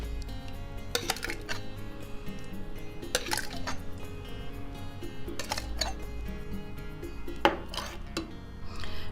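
Hot peppers in tomato sauce placed into a sterilized glass jar, with several clinks and knocks of glass and utensil over a wet, low background.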